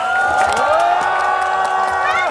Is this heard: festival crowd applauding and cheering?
yes